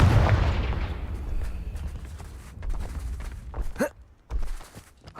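A Confringo fire spell blasts in Hogwarts Legacy, a broad booming burst that opens loud and rumbling, then decays into crackling debris and a few sharp later impacts.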